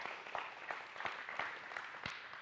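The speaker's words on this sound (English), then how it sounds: "We can give them a round of applause." Church congregation applauds after a sermon segment, a modest crowd's clapping with several sharper individual claps standing out, steady and moderately quiet with no talking.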